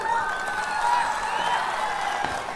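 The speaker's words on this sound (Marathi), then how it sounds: "नेत्या ताई टाळ्या वाजवायला लागल्या" Crowd at a Shiv Sena rally in Pandharpur applauding, a steady wash of clapping with crowd noise and a sustained tone over it, fairly loud and continuous throughout.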